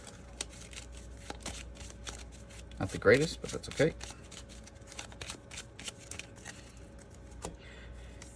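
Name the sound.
shuffling playing cards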